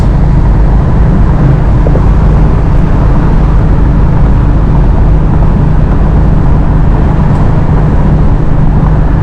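A car engine cruises at about 5,000 RPM on the road at roughly 80, heard as a loud, constant interior roar of engine and road noise that holds steady without a break.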